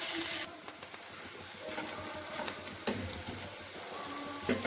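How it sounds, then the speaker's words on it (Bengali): Chopped onion and garlic fry in hot oil in a kadai, a soft, steady sizzle and hiss nearby, broken by faint scraping stir strokes and a few small clicks. "এবার এটাকে ভালো করে ভেজে নেব।"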